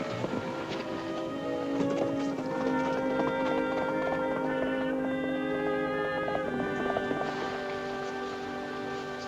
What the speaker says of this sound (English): I think I hear a horse on the road.